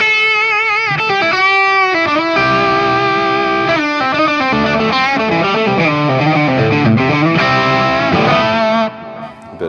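A loud, gritty overdriven electric guitar through a TC Electronic Nova System with a bit of delay plays sustained chords and riffs, rich with harmonics, alone without any talking.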